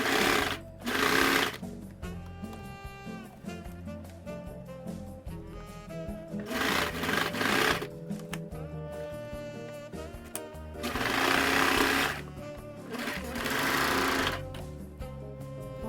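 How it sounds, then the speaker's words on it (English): A home sewing machine stitches a turtleneck in close, loud bursts of rapid mechanical whirring and clacking, starting and stopping several times as the fabric is fed through. "I'll set up a camera over here and you can watch me sew"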